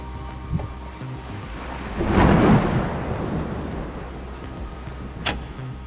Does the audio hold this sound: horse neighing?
no